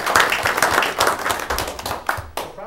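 A small audience at a village board meeting claps for an honoree, a short burst of distinct, close handclaps that thins toward the end.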